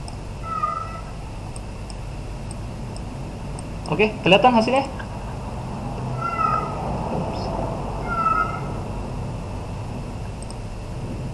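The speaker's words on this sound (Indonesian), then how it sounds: "Mohon dihiraukan itu kucing yang di sana ya." A cat meows repeatedly in the background of a room during an online programming lesson, several drawn-out cries spaced a couple of seconds apart, fairly faint, while someone talks briefly partway through.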